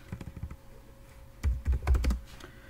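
Typing on a computer keyboard while entering a Python command: a few light key taps early on, then a louder cluster of quick clicking keystrokes near the end, close and otherwise quiet.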